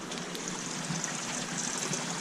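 Water pours into an aquarium sump beneath large tanks in a fish-keeping system, producing a steady close trickling and splashing stream without pause, no voices.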